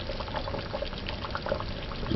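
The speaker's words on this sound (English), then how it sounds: "added half cup of water" Water is poured into a pot of beef soup, a soft, steady liquid splash heard faintly and close for a couple of seconds.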